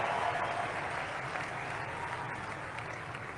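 Loud applause for Barron Trump fills the room at a Trump event, a dense, sustained clapping from a large crowd that stays strong and only eases slightly over a few seconds.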